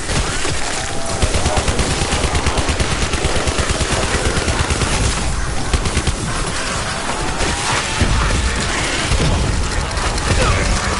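Rapid automatic gunfire from a weapon in Black Ops 4 zombies, loud and sustained bursts of shots with heavy booming impacts running continuously throughout.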